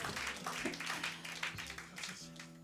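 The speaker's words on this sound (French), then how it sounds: "on peut les applaudir encore plus fort que ça, franchement." Applause from a small audience at an intimate concert, scattered clapping at low volume over a faint sustained tone, with a guitar being retuned as it fades.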